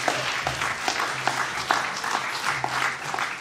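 Audience at a university journalism awards ceremony gives a round of applause as a guest joins the stage, with moderate, continuous clapping and a low hum underneath.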